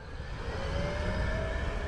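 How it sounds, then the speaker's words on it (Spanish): An electric postal motorcycle passes close by, a steady broadband whoosh of tyres and wind with a faint rising whine held throughout, no talking over it. "Mira, hay una moto eléctrica de correo."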